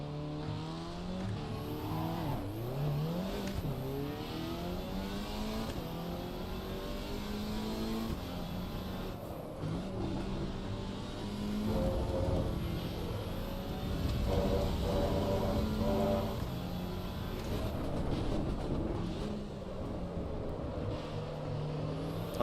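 Race car engine in the Assetto Corsa EVO racing game, revving up and down through gear changes with repeated rising and falling pitch sweeps and downshift blips, loud and continuous throughout with no talk.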